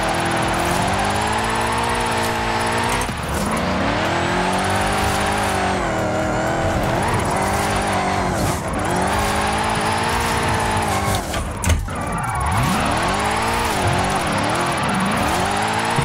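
A car drifting in the racing game Forza Horizon 5 holds a loud, continuous engine roar whose pitch swoops up and down as tires squeal through the slides, with no talking.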